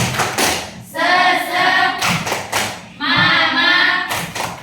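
A classroom group does the rhythmic 'tepuk semangat' clap: quick bursts of near, loud hand claps and thumps, alternating with two sustained stretches of children chanting together in unison.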